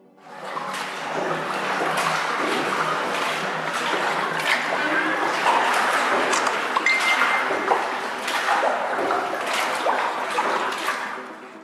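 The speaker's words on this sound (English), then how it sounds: "The natural acoustics of caves create echoing sounds, amplifying every drip of water and boatsman paddle." Water drips and a boatman's paddle strokes echoing inside a Vietnamese cave on a boat tour, with clinking splashes and reverberant wash at moderate loudness under a voice talking.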